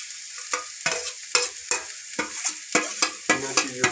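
Green chili and ginger frying on high flame in a pan, a crackling sizzle punctuated by about a dozen sharp, regular scrapes and taps of a spatula as they are stirred, close up and without speech.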